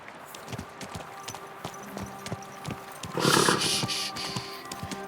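Hooves clip-clop steadily at a walking pace in the medieval game Kingdom Come Deliverance II, close by, with a louder breathy snort or rustle partway through.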